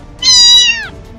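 A cartoon cat gives a single clear, drawn-out meow, loud and close, falling in pitch at the end, with no talk over it.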